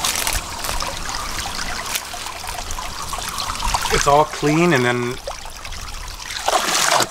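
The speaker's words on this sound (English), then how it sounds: "Oh, there's water everywhere." Water trickling and flowing across a garage floor, a steady broadband wash running throughout with a voice speaking briefly over it near the middle.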